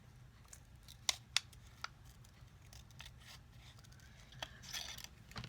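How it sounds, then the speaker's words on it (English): Scissors snipping around a paper shape cut close to its border, with a few sharp, distinct snips early on, then quieter scraping and cutting sounds over a low background hum. "So we're going to cut it out, and you want to cut it out really close to the border of the object."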